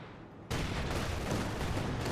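Gunfire erupts in the World War II strategy game Company of Heroes 2, where sniper shots mix with other weapons. It comes as a sudden, dense, loud burst of shots after a near-silent start, then keeps going as continuous battle noise.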